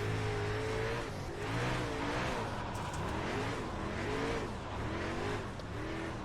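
A dirt-track race car engine in iRacing at Oswego roars steadily and close, its pitch rising and falling as it throttles through the turns, with tire and dirt noise underneath and no voices.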